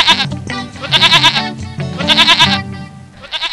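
A flock of sheep bleats in loud, wavering, quavering calls, two main bursts close by with overlapping voices and a shorter cry at the end.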